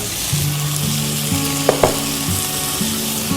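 Potato, ridge gourd and okra fry with shrimp in a pan, giving a loud, steady sizzle with a few sharp clinks of a utensil stirring partway through.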